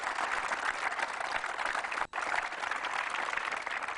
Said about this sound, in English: So kids, a big round of applause for our panel here.